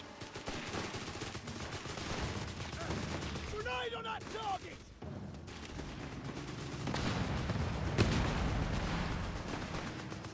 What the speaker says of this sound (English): move your gun so that way you'll be shooting at the enemy